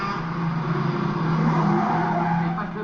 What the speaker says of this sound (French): la course-poursuite qui va s'engager entre la Cadillac de Niro et le camion